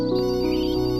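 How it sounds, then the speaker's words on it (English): Electronic phone ringtone chiming steadily and alone through a short stretch, a bright tonal melody with sustained harmonic notes at moderate loudness. "Oh, there's a phone ringing."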